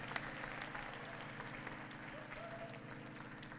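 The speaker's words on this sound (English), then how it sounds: "Can y'all clap for my wife" Audience applause at a church-style gathering, steady and continuous, with a low sustained musical hum underneath and some crowd voices mixed in.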